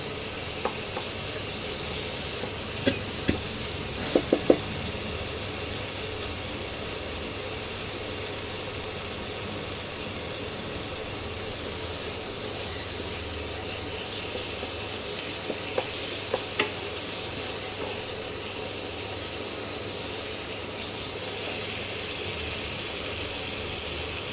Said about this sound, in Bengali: জল দিয়ে আস্তে আস্তে কষালেই মশলা থেকে তেল আলাদা হয়ে যায়।